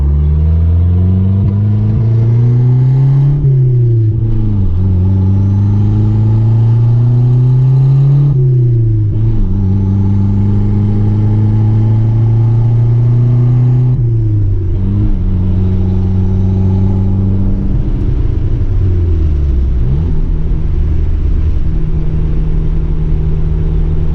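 A Conquest car engine fitted with a manual boost controller runs loud and close, rising and falling through repeated revs over a deep idle rumble.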